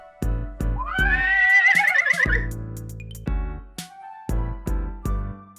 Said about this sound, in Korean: 갑자기 말 울음소리가 나더니 마차가 빠르게 달려오는 것이었습니다.